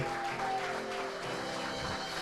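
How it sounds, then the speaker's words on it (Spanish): Church congregation applauding during a Spanish-language worship service, a steady, dense clapping that fills the whole stretch, with a sustained tone and faint voices mixed underneath. "dale un aplauso al Rey"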